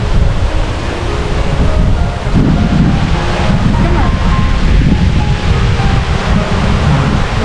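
Fast-flowing green river water rushes beneath a bridge in Canmore in the Canadian Rockies, a steady, loud, full-bodied roar mixed with wind buffeting the microphone.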